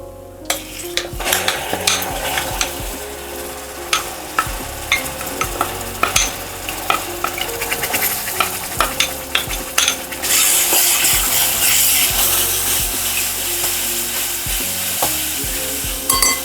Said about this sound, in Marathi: आता हा टोमॅटो आपण पुन्हा एकदम ओला घातलेला आहे तो शिजण्यासाठी